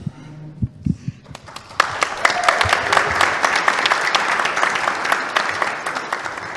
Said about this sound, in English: I know that applause was not for me